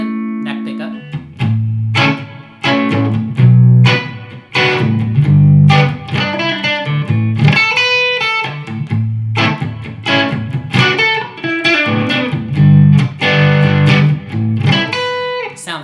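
Fender Player II Mustang electric guitar on the neck pickup with a touch of reverb, playing a run of chords and triads with ringing sustained notes and short pauses, close and clear.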